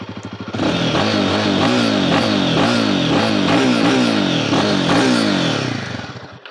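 A Royal Enfield Himalayan 450 idles and revs repeatedly through its exhaust, close and loud, with a throbbing rhythm of throttle blips lasting several seconds.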